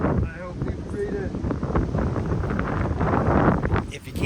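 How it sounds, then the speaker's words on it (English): Strong wind buffets a microphone on an outdoor trail in Ohio, a rough, continuous rumble and roar with gusts that swell and dip over a few seconds. "It's really windy in Ohio"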